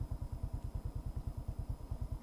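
Untuned motorcycle engine idling in poor condition, a steady low chugging pulse of evenly spaced firing beats, fairly quiet and close, with no talk.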